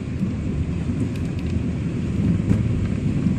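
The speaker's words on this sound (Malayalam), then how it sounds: "നല്ല മഴയുണ്ട്" Heavy rain falls as a dense, continuous rumbling wash, loud and steady throughout with no voices.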